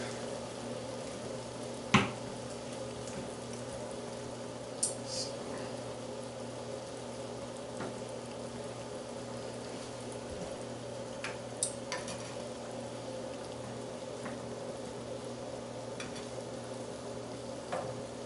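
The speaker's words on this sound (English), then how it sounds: "And we just let this simmer until fries are almost done." Food simmering in a pan as part of a beer-based recipe, a steady low sizzle and bubbling hum running throughout with a few faint clicks and taps of utensils, no talking.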